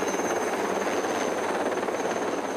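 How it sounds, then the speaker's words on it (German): A Lama helicopter hovers directly over a mountain accident site during a horse rescue by sling net, its steady loud rotor and turbine roar filling the whole clip without pause. "Der Pilot steuert den Helikopter genau über die Unfallstelle."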